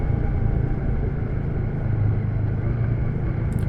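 A Royal Enfield Shotgun 650 motorcycle pulls hard on its 650cc parallel twin engine, a steady deep rumble with strong low end that stays close and continuous throughout.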